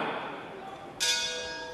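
A boxing bell rings to start the first round of a women's world title fight at the Luna arena, with a single bright clang that rings on over steady crowd noise in a large hall.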